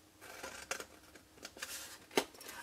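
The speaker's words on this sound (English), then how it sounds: "Let's have a different pair of scissors." Several quick, crisp snips of scissors, close by, spaced irregularly with brief pauses between cuts and one sharper snip near the end.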